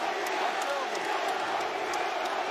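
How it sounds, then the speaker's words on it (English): The crowd at Madison Square Garden roars steadily during the Teofimo Lopez vs Josh Taylor boxing bout, a dense, continuous wash of cheering and shouting from a packed arena with occasional sharper whoops cutting through. "you can hear the crowd"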